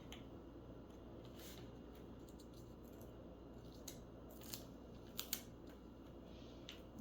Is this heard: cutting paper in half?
yes